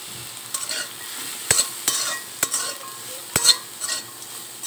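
Grated coconut stirred into a pan of fried nuts and raisins, with a steady sizzle and repeated sharp scrapes of a spatula against the pan at a loose rhythm, close and alone.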